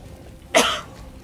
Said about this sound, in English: You just cough on my freaking microphone.